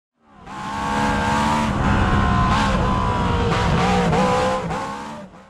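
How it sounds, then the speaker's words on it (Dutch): A 1950s Lola race car roars past at high revs, its engine rising and holding loud with gear changes and tyre noise, then fading out. "Dus je hoort alleen maar car sounds."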